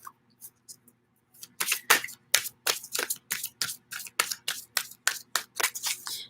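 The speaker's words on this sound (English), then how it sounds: "This is the final deck I have to shuffle back in." A tarot deck is shuffled by hand in a steady run of crisp, close slaps and flicks that start sparse and then speed into an even rhythm, with no talking.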